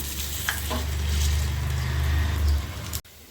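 Curd vada deep-frying in hot oil gives a steady, close sizzle and bubbling that runs for a few seconds before cutting off abruptly.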